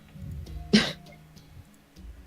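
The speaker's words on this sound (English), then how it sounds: "Cough." A single sharp cough rings out close by against a quiet background.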